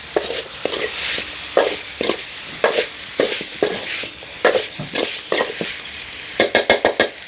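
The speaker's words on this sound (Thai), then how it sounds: "ใส่คั่วน้ำมันหอยเครื่องสมุนไพรเมียงได้เลยนะครับ" Chicken being stir-fried with oyster sauce and mieng herbs in a pan: rhythmic scraping stir strokes over a steady sizzle, ending in a quick run of fast strokes, with no talking.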